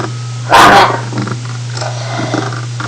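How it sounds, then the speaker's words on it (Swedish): A Minecraft dog lets out one sharp, loud bark burst, then quiet returns over a steady low electronic hum. "nu dumma hundar får vara inne i mitt hus"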